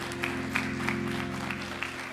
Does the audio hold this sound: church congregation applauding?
yes